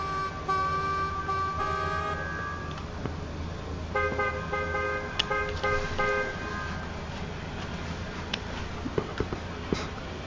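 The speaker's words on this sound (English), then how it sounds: "Who the heck is honking?" A car horn in the racing game Gran Turismo 7 blares in two sustained honks separated by a short gap, over a steady low background rumble.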